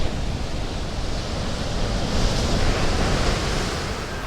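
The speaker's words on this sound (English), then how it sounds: "the ocean tide" Ocean waves from the tide wash in a continuous broad roar of surf, steady and fairly loud, with a gentle swell toward the middle and no voices.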